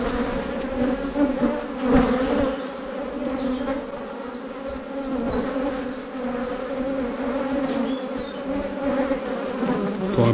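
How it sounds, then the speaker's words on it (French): Many honey bees in an open beehive during a spring honey inspection make a dense, continuous buzzing drone, close and steady throughout with no talking. "Vous voyez bien le nombre d'abeilles qu'il y a là-dedans."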